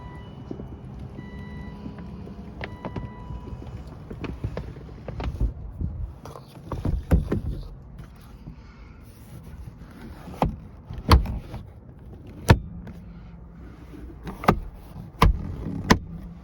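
Power convertible top of a 2000 BMW Z3 M Roadster being raised, quiet electric motor whirring with a series of sharp mechanical clicks and latch thumps toward the end, close by with no talking.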